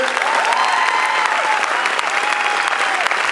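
Sustained clapping from a premiere audience in a Paris cinema, full and close throughout, while a presenter's amplified voice speaks over the applause.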